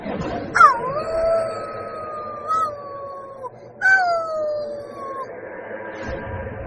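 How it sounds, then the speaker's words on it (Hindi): Howling from a wolf and a lion heard in a cave: two long, wavering howls in sequence, each rising sharply then sliding down and holding, loud and close with a faint echo behind, no talk. "उसके मंत्रों को सुनकर भेड़िया और शेर दोनों ही चुड़ैल की गुफा के पास आते हैं और उसकी गुफा में खूब तेज तेज दहाड़ने लगते हैं।"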